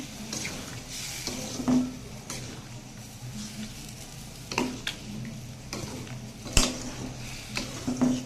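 Water poured into a pan of simmering bottle gourd curry, giving a soft sizzle and bubbling with a few sharp clinks of a spoon or utensil against the pot, close and fairly quiet throughout.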